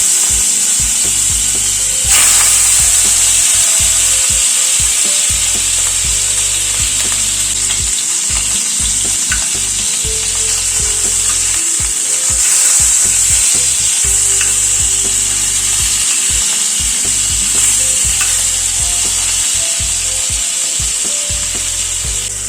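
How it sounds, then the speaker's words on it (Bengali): Hilsa fish frying in hot mustard oil in a kadai: a loud, close, continuous crackling sizzle that swells sharply a couple of seconds in and stays strong for over twenty seconds, with no voices. "তেলটা গরম হওয়ার পরে মাছটা ছেড়ে দিচ্ছি।"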